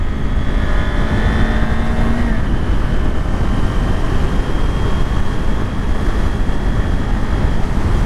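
A Kawasaki Ninja 400 motorcycle ridden by a beginner, its engine whine climbing to higher revs under a constant, loud roar of wind rush.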